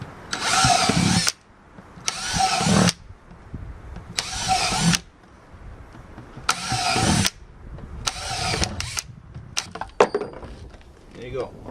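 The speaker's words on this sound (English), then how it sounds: "What you want to do is just drill holes in the middle." A power drill bores holes through a plastic screw-on lid in short, loud whirring bursts, about six of them, separated by brief pauses, with a voice talking in between.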